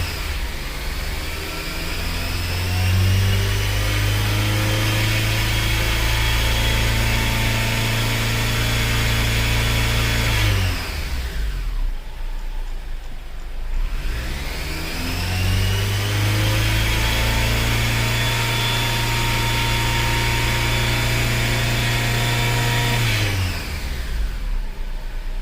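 A 2003 Honda Element 2.4L AWD engine held at a steady high rev above 3000 RPM, a loud sustained drone that drops away briefly to idle twice before climbing back up.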